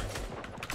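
Sniper rifle fire in the video game Fortnite Battle Royale: a few faint, distant gun cracks come in quick succession against a low rumble of background noise.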